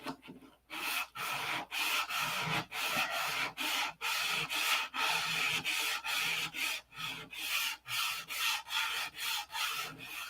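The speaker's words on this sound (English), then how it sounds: "I'm sanding this round, and I'm not sanding back and forth this way." Hand sanding of filler on a P-47 aircraft restoration, a close, even scratchy rubbing in steady rhythmic strokes, roughly two or three per second, continuing alone without pause.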